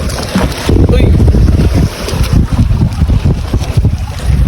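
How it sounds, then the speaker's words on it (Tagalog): Large waves slap and rush against a rubber fishing boat's hull in rough weather amid heavy wind buffeting the microphone, loud and close, with a voice briefly audible under the noise. "Malalaki yung alon."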